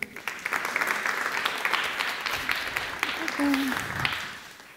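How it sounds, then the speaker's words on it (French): Audience at a youth digital literacy award ceremony applauds a guest, a full round of clapping lasting several seconds with faint voices underneath. "On l'applaudit."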